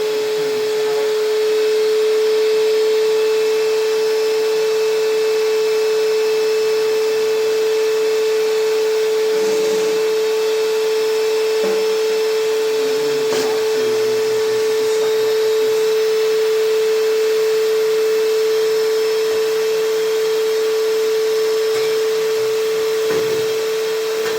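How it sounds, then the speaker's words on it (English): Shop vac running in a basement while vacuuming fireplace ashes: a loud, steady motor whine with a constant tone, broken by brief rattling bursts as debris is sucked up, no voices. "So we have the shop vac here in the basement."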